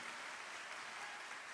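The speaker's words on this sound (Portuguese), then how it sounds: "Dê uma salva de palmas para Jesus bem forte" Congregation clapping at a Portuguese-language church service, a faint, steady wash of many hands heard from a distance.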